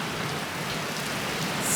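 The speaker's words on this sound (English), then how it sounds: "That's proper slashing it down. Whacking it down." Heavy rain pours down steadily in a dense, unbroken hiss of drops striking hard surfaces, loud and close, with no voices over it.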